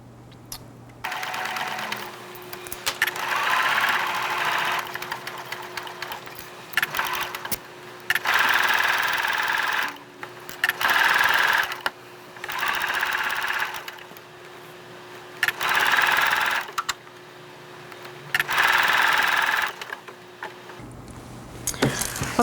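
A sewing machine stitches a full sleeve seam in stretchy sheer fabric, running in steady bursts of fast mechanical whirring separated by short pauses, close and clear with no talking.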